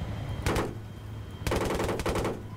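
Bursts of helicopter machine gun fire in Battlefield 3 multiplayer: one short rapid burst, a pause, then a longer sustained stream of rapid shots, fairly close and loud over a low engine hum.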